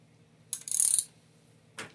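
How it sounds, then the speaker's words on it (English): A ratchet turning counterclockwise to undo the 14mm nut holding a bicycle crank arm onto the spindle, with a quick burst of clicking followed later by a shorter click, close and fairly quiet. "So I'm just using a ratchet"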